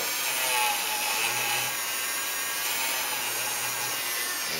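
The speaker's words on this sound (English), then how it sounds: "I'm going to drill on one side, then the other, then one in the middle." A hand drill grinds steadily into a small photo-etched model starship part, a continuous close scraping, rasping sound with no pauses.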